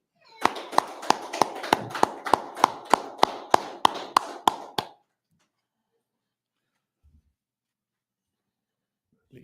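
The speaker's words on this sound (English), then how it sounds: "Clap it up." An audience at a religious history class in Harlem, New York claps about fourteen times in a steady, even rhythm, fairly loud, then stops abruptly into near silence.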